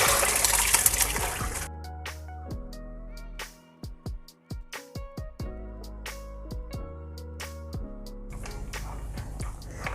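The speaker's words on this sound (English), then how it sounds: "I'm gonna wash my rice now." Rice being washed by hand in a bowl of water for Nigerian coconut rice: loud swishing and splashing, then a run of scattered drips and plops before the swishing picks up again.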